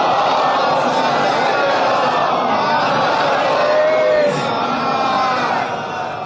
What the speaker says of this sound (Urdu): ہم خود سامنے پڑھ رہے ہیں اور آپ کو نعرے لگا رہے ہیں